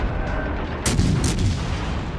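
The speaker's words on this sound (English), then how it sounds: "So basically a full salvo of all my guns." A full salvo from the HMS Warspite battleship in World of Warships Legends, heard as heavy, loud artillery booms with a sharp double blast that rumbles on under constant game noise.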